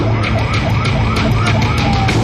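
A fire engine siren wails loudly and continuously as the truck arrives at a plane crash site near Dwarka, with a rising and falling tone over rumbling traffic noise.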